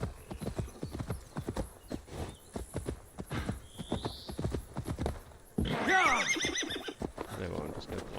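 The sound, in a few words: horse galloping and neighing in Assassin's Creed Valhalla video game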